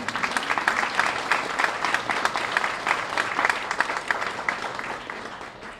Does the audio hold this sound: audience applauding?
yes